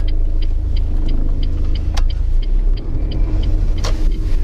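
A car idles with a steady low rumble and then eases forward out of a car park, the engine note shifting a little as it turns left, with a soft regular ticking, likely the indicator, running throughout.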